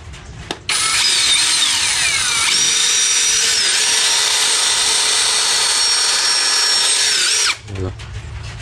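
A Keelat 4-in-1 portable power drill runs in plain drill mode, a loud, close, steady high whine for almost seven seconds, with a brief voice just after it stops.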